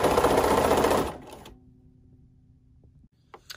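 A sewing machine with a walking foot stitches quilt binding in one steady, fairly loud run of about a second, then winds down into faint hum and a couple of small clicks.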